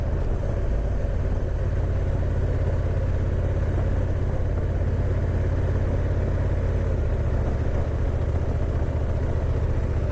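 A 2022 Honda NT 1100 DCT motorcycle engine while riding, a constant low droning rumble, lugging in sixth gear under a steady wash of wind noise throughout.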